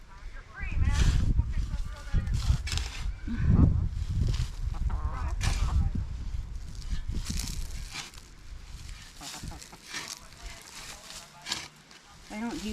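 Chickens in a Florida permaculture food forest garden cluck and squawk in irregular bursts close by, with rustling and movement around them.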